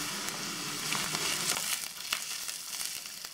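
Onion, garlic and ginger-garlic paste sautéing in a pan for keto chicken dry, a steady close sizzle with scattered crackles and soft stirring scrapes throughout.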